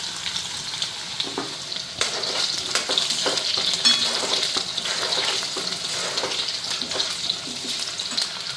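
Potatoes fry in hot oil, producing a steady, close sizzle with occasional clicks and scrapes from stirring, continuous throughout.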